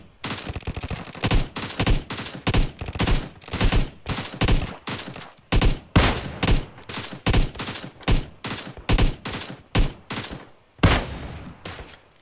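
Rapid bursts of gunfire in the PUBG Mobile battle royale game come in repeated rhythmic volleys, loud and close, spanning the whole stretch without talk over them.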